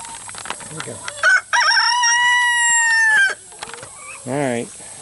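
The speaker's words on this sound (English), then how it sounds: "My chickens want to get out and roam around, so let's let them." On a homestead, a rooster gives a long, loud, nearby crow while hens cluck around it, followed by a shorter squawk, with a few scattered clucks before and after.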